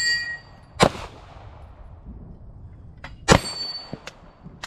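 Two sharp pistol shots ring out at a shooting class, one early and one a few seconds later, each a loud crack with a ringing metallic tail, separated by quiet range ambience.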